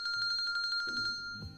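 Electronic phone ringing in the visual novel Kinkoi: Golden Loveriche, a rapid trilling ring repeating in quick pulses that cuts off abruptly, followed by soft background music.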